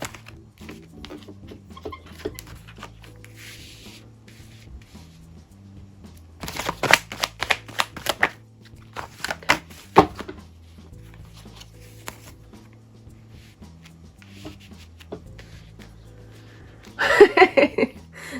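Tarot cards being shuffled and handled in bursts of crisp riffling and patter, quiet stretches between them, no talking.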